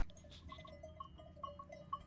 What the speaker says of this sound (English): a herd of noisy goats surrounded the van mid-meeting